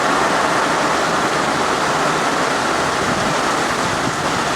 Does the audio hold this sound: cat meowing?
no